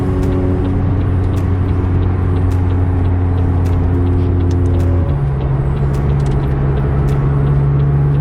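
A McLaren 600LT's engine hums on a warm-up lap at a racing circuit, a loud steady tone heard from inside that drops to a lower pitch partway through as the gear changes, with small ticks and clicks over the drone.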